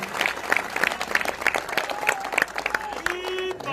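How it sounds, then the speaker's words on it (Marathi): An audience claps steadily in applause for a 78-year-old grandfather at a Sai devotees' samiti gathering, a dense run of hand claps with a voice speaking over it throughout. "त्यांच्यासाठी सर्वांनी टाळ्या वाजवायच्या"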